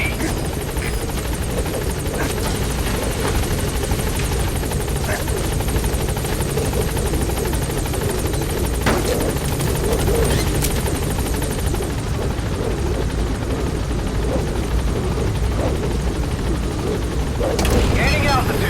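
A helicopter in the video game Metal Gear Solid V drones with a steady, dense rotor and engine roar throughout, loud and continuous, with occasional thuds and a radio voice speaking over it.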